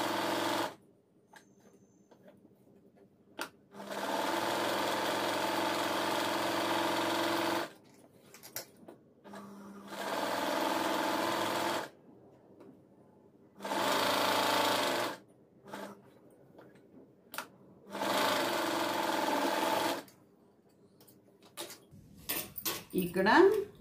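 A sewing machine stitches the sleeve joints of a blouse in four long, steady bursts of close mechanical whirring, separated by pauses filled with fabric handling and small clicks.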